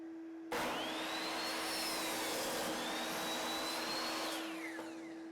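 A miter saw cuts a 45-degree angle through a scrap 2x4, a loud steady whining roar that starts abruptly and holds for about four seconds before tapering, with no talk.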